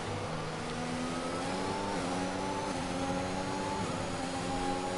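Racing cars in a racing video game roar off the start line, several engines revving hard and climbing in pitch together in a loud, continuous mid-pitched drone.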